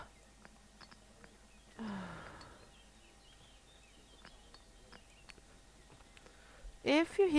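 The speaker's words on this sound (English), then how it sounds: "If you hear some weird sounds, that's just a cat." A cat makes odd, strained yowling calls indoors: one drawn-out falling cry early on, then a louder wavering call near the end, with quiet background clicks between them.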